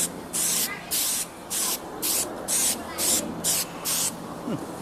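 A cheap aerosol can of spray paint or adhesive sprays in about nine short hissing bursts with brief pauses between them, close and fairly soft, with no one speaking.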